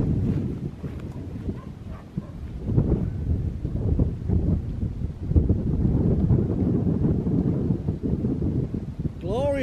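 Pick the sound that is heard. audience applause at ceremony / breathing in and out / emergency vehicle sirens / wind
wind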